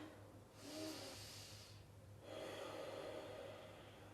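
Two audible breaths are taken while standing in the Tadasana mountain pose, a rushing inhale followed by a longer airy exhale, close and fairly quiet over a low steady hum, with no talking.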